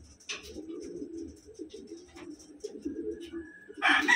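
Small-sized Wantai pigeons, blue bar hens, coo in a low, continuous rolling murmur close by, with a brief sharper flutter or chirp near the start and a louder burst of noise at the end.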